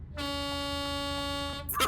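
A single sustained blast of a truck's air horn in a Europe cargo-hauling truck driving game, a loud steady tone lasting over a second before cutting off.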